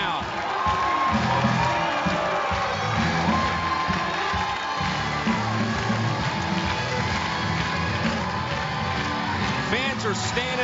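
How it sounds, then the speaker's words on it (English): Loud baseball stadium crowd in the bottom of the seventh inning of a game against Boise, cheering, whooping and clapping continuously, with shouts rising out of the din and an announcer's voice underneath. "Fans are standing up, dancing, clapping their hands, kicking their feet."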